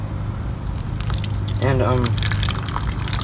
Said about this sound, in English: I'm going to let some more water in